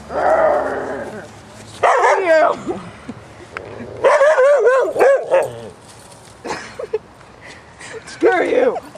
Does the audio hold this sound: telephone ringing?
no